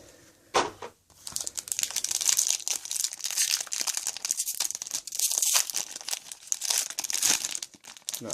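Crinkly plastic foil wrapper of a Magic: The Gathering Khans of Tarkir booster pack being torn open and crumpled, close and fairly quiet, with a sharp rip near the start followed by continuous rustling.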